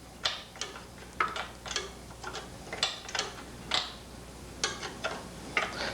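A wrench works loose a nut on an exhaust manifold stud of a VW-type engine, giving a series of irregular clicking ratchet-like ticks, close and fairly quiet, with no talk.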